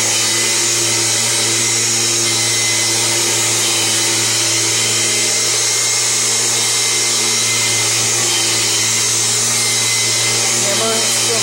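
A 1999 Kirby G6 upright vacuum cleaner runs continuously at close range, a loud, steady motor whine with a strong tonal hum and constant airy rush.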